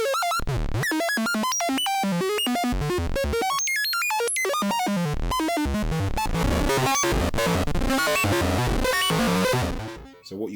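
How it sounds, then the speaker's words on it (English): Oscillator one of a DIY analog synth with FM engaged, modulated by a random LFO, jumping through rapid, irregular pitch steps and buzzy harmonic bursts, loud and chaotic throughout before a short fade at the end. "VCO1 with its FM still engaged, and this is being modulated by the LFO on random."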